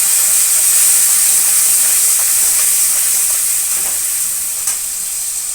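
Soaked cumin, coriander and chili paste hitting hot oil, giving a loud, steady frying sizzle and hiss close by that eases slightly toward the end, with no voices.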